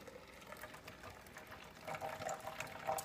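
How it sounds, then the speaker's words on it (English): Concentrated parsley juice poured through a strainer, a steady close liquid splash and trickle that grows a little louder and gushier toward the end. "So basically, I'm just going to just pour it over my strainer just like this."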